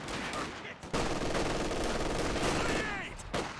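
MG42 machine gun fire in a Company of Heroes 2 real-time strategy match: a dense, continuous roar of rapid automatic bursts mixed with battle din, holding for over three seconds after a brief gap near the start.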